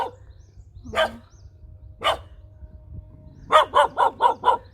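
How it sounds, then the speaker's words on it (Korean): A yellow farm dog barks at close range: two separate single barks spaced a second apart, then a rapid burst of five barks, with no talking. "너는 좀 많이 짖네"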